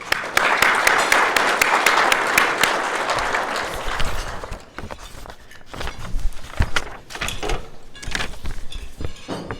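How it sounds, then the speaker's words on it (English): An audience at a Rotary club lunch in Melbourne claps loudly in welcome for about four seconds, then the applause thins into scattered claps and shuffling noises. "a round of applause to welcome everyone."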